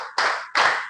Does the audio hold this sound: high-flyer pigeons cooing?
no